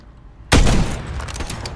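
A sniper rifle shot in Call of Duty Modern Warfare 3 Search and Destroy, one sudden loud, close crack that booms and then trails off into a rumbling echo.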